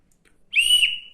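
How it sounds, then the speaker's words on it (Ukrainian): A small wooden whistle carved from a cherry twig gives one loud, shrill blast lasting about half a second, its pitch wavering slightly, heard alone up close. "свисток зроблений прямо, здається, з вишневої палички, гілочки"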